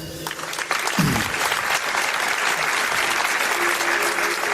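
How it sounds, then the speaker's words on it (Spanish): An audience applauds warmly at a talk on the legend of the dragon: steady, dense clapping from a crowd that holds at an even level throughout, with a brief voice near the start. "Pido un aplauso para ellos."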